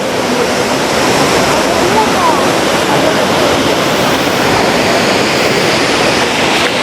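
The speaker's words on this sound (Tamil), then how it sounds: "இதான் அந்த பிம்ஹின் வாட்டர் ஃபால்" Water crashes down steadily at a waterfall, producing a loud, unbroken hiss of spray and falling water that fills the whole scene without pause.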